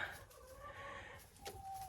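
Hens on a dacha clucking softly in a few drawn-out calls, faint and somewhat distant, with no talk.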